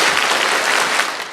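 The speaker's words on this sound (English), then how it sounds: "we're going to clap 5 times quickly and stop" A large Georgia DECA conference audience claps in unison in a short, loud, dense burst lasting just over a second, with no talking.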